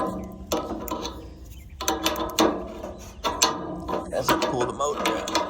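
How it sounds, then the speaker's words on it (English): A crescent wrench turns the shaft of an indoor AC fan motor during replacement, giving close, repeated metallic clicks and ratcheting rattles in uneven bursts, with a voice faintly present beneath. "probably have to put my crescent wrench right here and turn the shaft"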